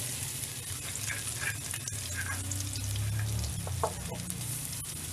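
Pounded chili stir-frying in a hot pan for Thai pork basil stir-fry, a continuous close sizzle with occasional scrapes and clinks of the spatula and a low background hum.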